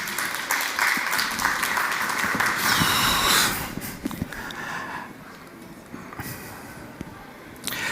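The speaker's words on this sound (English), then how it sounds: "you can give me a little round, like a kind of warming applause" An art-talk audience on a stage event in Germany gives a short, light round of applause that builds over about three seconds, then dies down into scattered claps and room noise.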